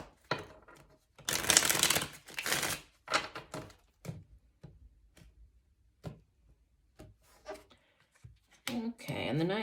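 Tarot cards are riffled and shuffled in several quick bursts, a crisp flutter near the microphone, with a voice speaking between shuffles.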